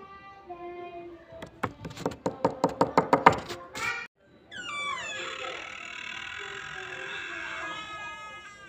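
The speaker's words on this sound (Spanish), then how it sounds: "Toca la puerta." Rapid run of about ten sharp knocks on a door in the game Amanda the Adventurer, speeding up, then a sudden stop followed by a sustained mechanical, tonal creaking.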